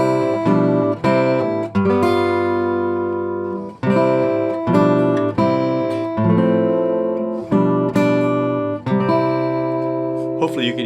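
Classical guitar plays a hymn, Be Still My Soul, with the melody notes brought out over the accompaniment; clear, close plucked notes and chords ring steadily in a flowing rhythm with no talking.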